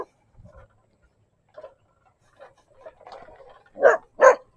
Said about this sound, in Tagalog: Oh, tapang itong aso na.